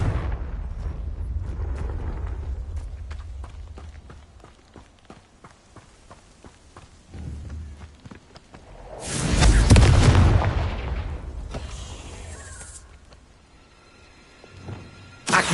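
Confringo fire-spell blast in the Hogwarts Legacy video game, a loud booming explosion rising to a roaring peak midway and then fading, set among other crackling spell effects and game sounds.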